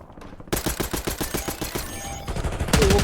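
Rapid automatic gunfire in a video game shootout, a loud steady stream of shots starting after a brief lull and continuing throughout, with a heavier burst near the end.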